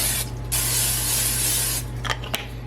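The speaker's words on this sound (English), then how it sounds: "Spray 2 loaf pans and set them aside." Cooking spray hisses onto two loaf pans for meatloaf in one long, close, steady burst, followed by a few short clicks and a brief second puff.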